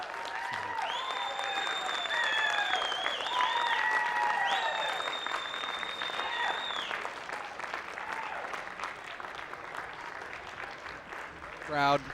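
A large crowd at the 2016 NWSL College Draft bursts into loud, sustained applause and cheering that swells, then slowly thins into scattered clapping and murmuring voices.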